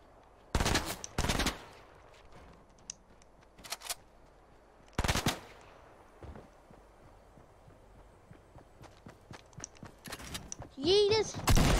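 Rapid bursts of gunfire in the Fortnite battle royale game, several sharp loud volleys spaced through the clip, with game effects and a rising tone near the end.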